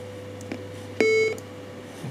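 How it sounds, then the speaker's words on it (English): A classic Macintosh IIci system beep: a single short, clean electronic tone sounding once, fairly close and clear over a faint steady hum, with only small background clicks around it and no speech. "So you've got a simple beep that you just heard."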